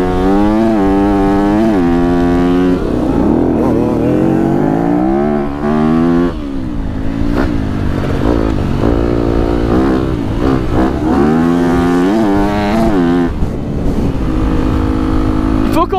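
A motorcycle engine revs close and loud, rising and falling in pitch through repeated throttle blips and longer pulls, steady and continuous with a rough harmonic drone.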